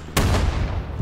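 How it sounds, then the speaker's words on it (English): A single loud, close blast in the Vietnam-era shooter Rising Storm 2, fitting a grenade explosion: a sharp broadband crack that then rolls off into a long, low rumbling tail. "Grenades being thrown over here?"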